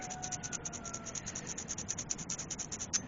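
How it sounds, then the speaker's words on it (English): Sandpaper folded in half rubs back and forth on the ground strap of a spark plug from a 1988 Jeep Wrangler 2.5 liter, a steady close scratching in quick, even strokes for the whole span with no talk. "We're just kind of roughing that edge up, getting that ground strap nice and clean."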